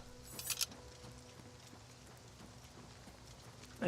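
Hoofbeats of a horse in the Oblivion Remastered video game, a brief burst of clip-clop steps near the start that fades away, then quiet with a faint rustle and a sharp loud hit at the very end.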